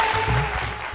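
Studio audience applauds a singer on a televised singing show, a short, dense patter of clapping that fills the moment with no talk.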